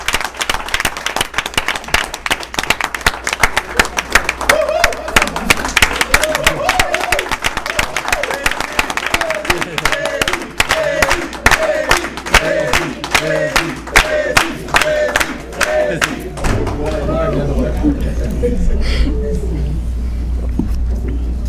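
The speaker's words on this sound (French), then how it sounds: "Je voudrais vous demander de l'acclamer très fort." A large crowd claps and cheers steadily for Moussa Diomandé, the new president, at a handover ceremony, with dense applause and shouting voices throughout that thins into a softer roar near the end.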